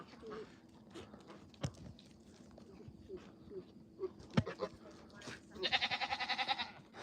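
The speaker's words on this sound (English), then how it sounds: "I don't want to get caught up in your little goat fight." Goats in a farm field at sunset give a pulsing, wavering bleat near the end, after scattered rustles and soft thumps, with people talking nearby.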